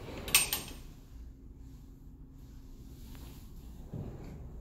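Pocket door in an apartment's walk-through closet sliding, a soft rolling rumble with a brief knock at the start and a low thud near the end, quiet and with no talk.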